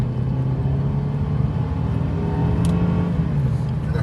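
Mercedes C300 W205 with an 8G-Tronic automatic gently accelerating in comfort mode, a steady low engine drone and road rumble heard from inside the cabin, with no talk.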